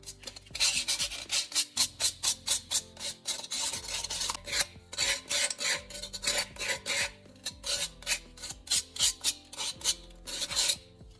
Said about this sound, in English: Now I smooth all the sharp edges with sandpaper.